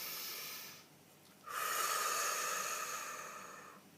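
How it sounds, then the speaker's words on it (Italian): A single slow, deep breath, a soft airy inhale followed after a short pause by a longer, louder hissing exhale, close and quiet with no talking. "facciamo un bel respiro profondo"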